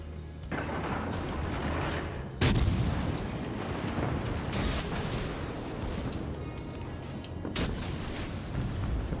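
Naval guns firing high-explosive shells in World of Warships, with a few heavy booming shots, a strong one near the start, over a constant roar of battle and sea noise.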